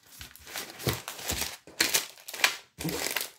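Plastic packaging around a rolled diamond painting canvas crinkles and crackles in several close bursts as it is unwrapped, with short pauses between handlings.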